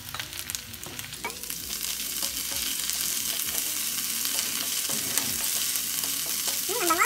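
Bagoong shrimp paste dropped into a frying pan for ginisang munggo and stirred, a steady bright sizzle building and holding with occasional scraping of the spatula.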